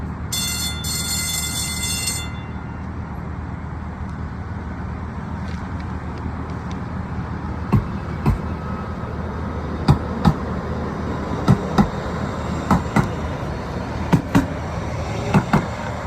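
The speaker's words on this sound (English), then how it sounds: "The doors are closing. Train departing. Please hold on." A train rumbles steadily along the rails, with a brief electronic chime at the start and sharp periodic clanks from the wheels later on.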